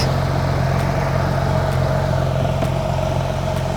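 A Porsche GT3 fitted with an Fi Exhaust idles steadily at close range, its low burbling drone constant and unbroken, with no voices over it.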